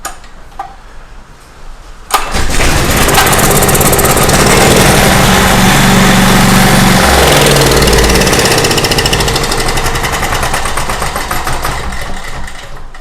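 A small generator engine, freshly repaired at the carburetor and started on choke, catches after a quiet couple of seconds and runs loud and close with a rough, steady rattling drone that eases slightly toward the end.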